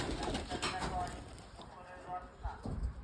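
Pigeons kept for sale coo softly and repeatedly close by, with faint fluttering and shuffling, under a voice.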